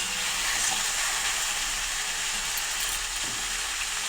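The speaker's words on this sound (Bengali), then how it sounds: "এগুলো ভালো করে ভেজে নেবো একটু হালকা জালে কারণ ঝিঙের মধ্যে অনেক জল থাকে" Ridge gourd and potato pieces fry gently in a pan over a low flame, giving a continuous close hiss with a faint low hum beneath, without speech or stirring strokes.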